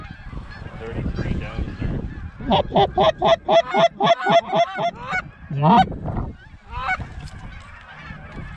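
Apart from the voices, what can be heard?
Canada geese honking during a goose hunt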